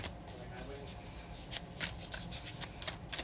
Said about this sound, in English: So let's get these shuffled.